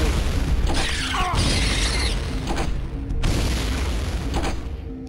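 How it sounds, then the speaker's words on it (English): Grenade launcher blasts in the Turok 2: Seeds of Evil shooter, loud booming bursts repeating in a dense, continuous stretch of game noise with mechanical clanks. "I can just stay in the corner and blow them up. Cheese it all. Grenade launcher."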